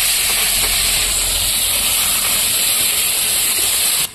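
Spice paste fries with potatoes in a pan, giving off a steady, dense sizzle that is loud and close, running unbroken until it drops away at the very end.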